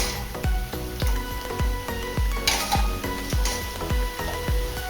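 Bucatini for cacio e pepe cooks in a pan with a low sizzle and bubbling. Regular soft knocks and scrapes repeat about twice a second as the pasta is stirred, with no talking.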